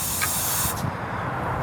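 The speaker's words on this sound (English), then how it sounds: "you can just spray it" Aerosol chain lube sprayed onto a motorcycle chain with a clean bob tool hooked behind it, a steady close hiss running for well over a second before breaking off.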